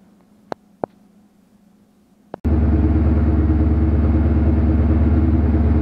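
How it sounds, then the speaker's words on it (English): BMW E39 M5 with the S62 V8 fires up from cold after a few faint clicks, settling into a loud, steady, rumbling idle that fills the rest of the clip. "Now the engine's running, we're just going to let it warm up"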